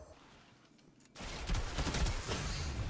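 Hand cannon fire in Destiny 2, a quiet stretch then a burst of heavy shots and impact noise, loud and close.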